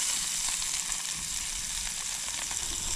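Food sizzles and crackles in a pan over a campsite stove during a canoe camping trip, a dense, continuous frying hiss heard close up.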